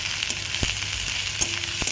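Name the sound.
frying chopped onion and chili in mustard oil in a wok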